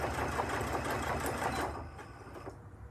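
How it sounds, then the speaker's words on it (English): A sewing machine runs steadily, stitching a ribbon with a sliding guide foot and edge guide foot, a close, continuous mechanical whir that eases slightly toward the end. "I'm sewing a ribbon now to show you that we can do"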